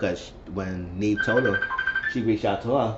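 A phone rings with a steady electronic tone lasting about a second. It sits underneath continuous conversational speech.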